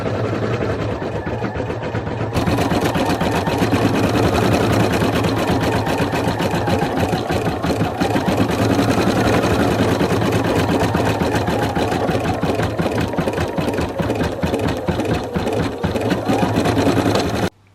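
A sewing machine stitches continuously at a steady fast pace, making a loud, dense mechanical whirr with rapid needle clatter. It briefly changes pitch early on and cuts off at the very end.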